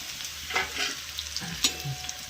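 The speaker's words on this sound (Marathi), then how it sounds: "आता टाकून घ्यायची भाकर आपण चुरलो चुरलेली" Crumbled hard bhakri goes into hot oil in a pan, a soft sizzling crackle with a few stirring clinks, fairly quiet and close.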